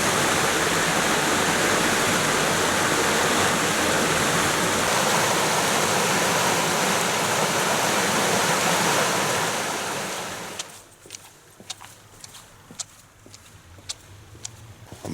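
Water pours over a weir by a footbridge and ford near St John's Chapel in Weardale, North Pennines, as a loud, steady rushing roar that drops away after about ten seconds, leaving quieter scattered clicks and faint outdoor sounds.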